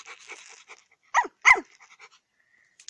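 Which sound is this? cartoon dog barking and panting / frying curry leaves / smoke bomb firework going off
cartoon dog barking and panting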